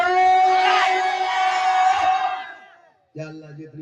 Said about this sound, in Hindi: पूरा मजमा हाथों को उठा के कहे या रसूल अल्लाह।